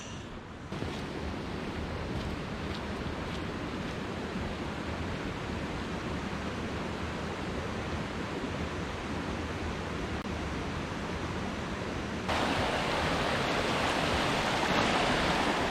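Steady, dense rush of a waterfall on a fell path near Crummock Water in the Lake District, roaring continuously, growing slightly louder and brighter near the end as it draws closer.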